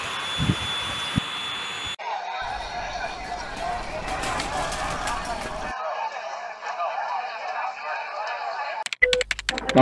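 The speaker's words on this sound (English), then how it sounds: "I report the first plane will take off now." Jet plane taking off in a LEGO stop-motion airport scene: a loud, continuous engine roar and whoosh swells after an opening burst of other sounds, then cuts away near the end.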